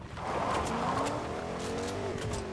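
A car driving in the Fortnite video game, its engine note steady and fairly loud throughout with some tire noise, heard close and alone.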